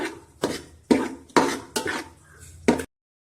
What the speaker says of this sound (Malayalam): വെളുത്തുള്ളി പേസ്റ്റും ഇട്ടുകൊണ്ട് നമുക്ക് നല്ലൊന്ന് ഇളക്കിയെടുക്കാം